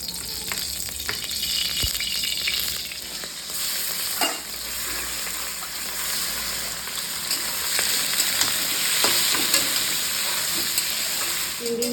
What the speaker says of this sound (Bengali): চিংড়ি মাছগুলো ভাজতে ভাজতে আমি এবার একটা মশলা তৈরি করে নেব।